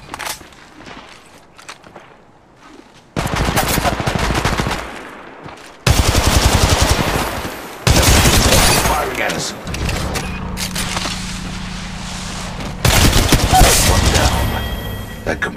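Automatic weapons fire in the mobile shooter Apex Legends Mobile: loud, dense bursts of rapid shots, separated by short pauses and quieter stretches of movement.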